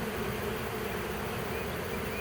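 Dense, steady buzzing of a honey bee swarm at a hive, loud and continuous close up with no pauses and no voices.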